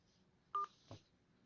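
A telephone keypad sounds a single short DTMF beep while dialing a conference ID on a cell phone, followed by a faint click in an otherwise quiet background.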